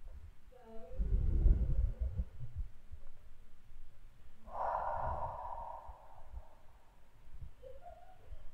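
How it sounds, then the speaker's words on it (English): During a yoga breathing exercise, a slow deep breath is drawn in through the nose, then let out through the mouth in a long, soft, airy exhale, close to the microphone. "Inhaling through your nose. And exhaling through your mouth."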